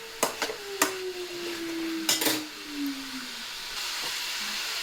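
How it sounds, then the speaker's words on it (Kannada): Beetroot with onion, tomato and green chili frying in oil, a steady low sizzle under several sharp scrapes and taps of a spoon stirring the pan. "ಈರುಳ್ಳಿ, ಟೊಮೊಟೊ, ಹಸಿಮೆಣಸು ಇದೆಲ್ಲ ಚೆನ್ನಾಗಿ ಎಣ್ಣೆಯಲ್ಲಿ ಫ್ರೈ ಆದಮೇಲೆ ಇದು ಮಿಕ್ಸ್ ಮಾಡಿಕೊಂಡ್ರೆ ಇನ್ನೊಂದು ಸ್ವಲ್ಪ ಚೆನ್ನಾಗಿ ಫ್ರೈ ಆಗುತ್ತೆ"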